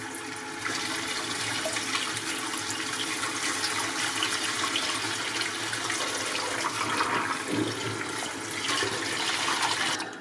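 Water from a pot of cooked purple octopus is poured away once the cooker is off, a steady, full splashing rush running for about ten seconds with no talk.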